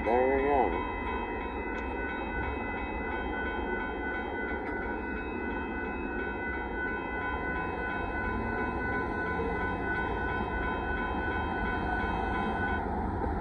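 A northbound Union Pacific mixed freight train with Kansas City Southern de Mexico cars passes at Dittmar Road in Austin, Texas. It makes a steady rolling rumble of wheels and cars throughout, with a brief horn-like tone at the start and a faint high steady whine.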